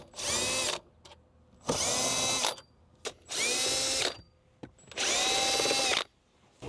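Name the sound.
power drill removing 10mm bolts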